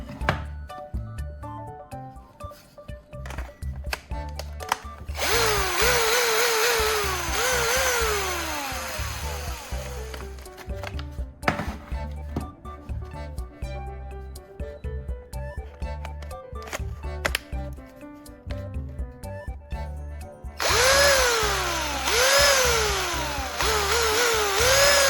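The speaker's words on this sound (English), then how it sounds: "I take the bad battery and test it in the cordless drill" A cordless drill's small electric motor whirs up and winds down in several bursts, its pitch rising and falling, with clicks and handling noises between runs.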